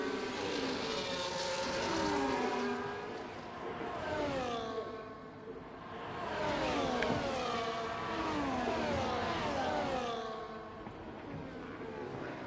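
Simulated race cars in an online video game racing league, engine notes rising and falling in repeated sweeping passes, steady and fairly loud throughout with no voices.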